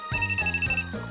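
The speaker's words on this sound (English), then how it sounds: "The sudden ringing of a phone takes me by surprise." A telephone rings in a visual novel game, a steady electronic trill with a bright sustained tone lasting about a second, heard alone and fairly loud.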